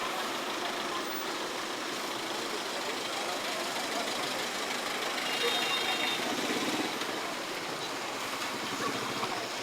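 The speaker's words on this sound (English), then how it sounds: "This one is open for traffic, so there's a little bit of cars going by." Cars going by in open street traffic beside the Friday Apu Market in Angeles City, Pampanga, Philippines, heard as a steady, moderately distant engine rumble and road hiss that swells slightly midway, with no clear individual passes.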